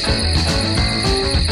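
The steady, insistent chirping trill of a common field grasshopper sounds nearby and fairly loud, continuing evenly with no other sounds.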